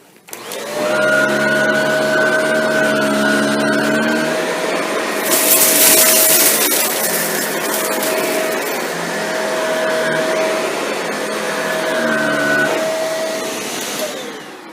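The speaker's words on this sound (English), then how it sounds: "So let's see how the vacuums perform. First, we're going to run" A Shark NV682 upright vacuum cleaner runs steadily and loudly with a whining motor tone, its pitch shifting briefly midway as it pushes across the floor, with no talking.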